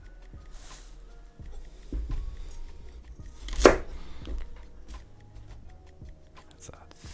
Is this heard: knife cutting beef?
yes